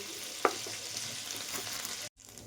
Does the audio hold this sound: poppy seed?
yes